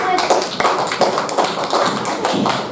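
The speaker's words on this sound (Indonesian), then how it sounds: "tepuk tangan buat Mas Kenan" Classroom applause for a student returning to his seat comes as loud, close, rhythmic clapping with evenly spaced accents, a patterned beat rather than a loose crowd roar.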